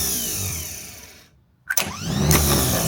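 The starter motor on an International 200 4x4 wrecker truck cranks the engine. A sudden whirring spin-up follows a brief silent gap, then a loud, steady spinning runs to the end.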